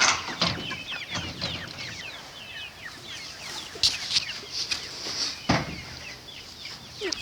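Meat chickens cluck and chatter nearby in a close, busy stream of short calls with a few sharper squawks over quiet background.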